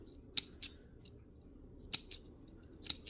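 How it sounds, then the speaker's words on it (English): Small scissors snip leftover sewing thread close to the fabric. Three crisp, faint clicks are spaced about a second apart over a quiet background. "You can use whatever scissors or snips you have to get as close as possible right here."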